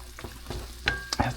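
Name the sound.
Italian sausage sautéing and sizzling in a pan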